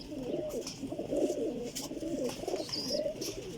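A Sialkoti pigeon coos in soft, rolling low pulses, close and repeated several times over a faint background of distant chirps.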